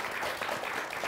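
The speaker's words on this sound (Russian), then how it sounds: "Ну а сейчас вам слово и в награду вам порция аплодисментов." Applause from a talk-show audience at an alumni community event, a short burst of steady, moderately loud clapping.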